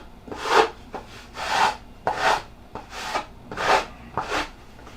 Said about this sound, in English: sanding and shaping and getting her down to 320.